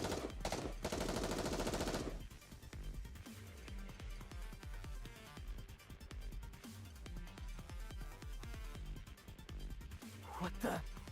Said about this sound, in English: Unload your guns on them, boys!